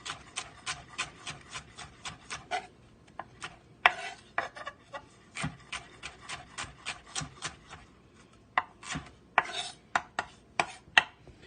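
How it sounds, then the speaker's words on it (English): A knife slices vegetables thinly on a cutting board, making a quick run of crisp, regular cuts near the microphone, a brief pause, then another burst of rapid slicing. "And we're just going to slice them thinly."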